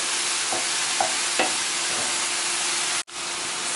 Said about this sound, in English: And I added some olive oil to the pasta. So we're going to mix this in.